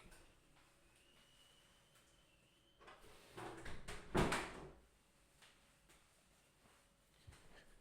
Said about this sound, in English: I'm going to close this door and be right back.